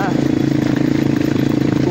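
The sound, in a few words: Crossfire 250cc motorcycle engine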